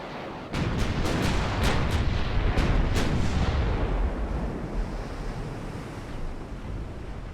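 Warship guns firing in a naval battle in Ultimate Admiral: Dreadnoughts, a rapid series of about eight sharp booming reports over a steady rush of sea and wind, then only the ocean noise.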